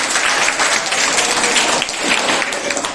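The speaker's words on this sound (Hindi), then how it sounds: "इन बच्चों के लिए ताली बजाओ भाई।" Children clapping for the winning 7th-grade class at a school prize announcement, a lively crowd of hands with slight swells and dips, fairly close and loud, no talking over it.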